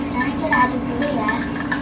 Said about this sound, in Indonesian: Sekarang kita aduk dulu ya.